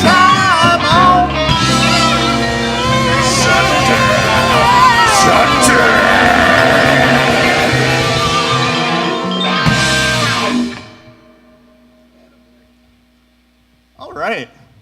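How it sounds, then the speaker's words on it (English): A live concert audience at Milwaukee Zappafest XXII cheers and shouts loudly with sustained crowd noise and music, fading out after about ten seconds to near silence before a brief burst at the end. "Pause for applause"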